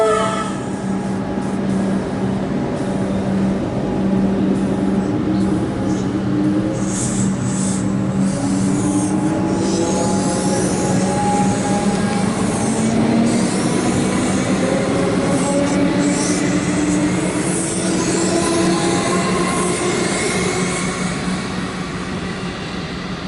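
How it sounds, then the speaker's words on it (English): A Melbourne Metro train on the Sunbury line departs Footscray station, its loud, steady rumble and rising traction-motor whine filling the whole stretch close by, with no talk over it. "Train down Sunbury departing Winnell Footscray."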